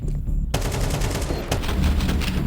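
Rapid gunfire bursts from a professional Counter-Strike match at an esports tournament, loud and dense, with a sharp crack midway as a headshot lands, sounding continuously without talk.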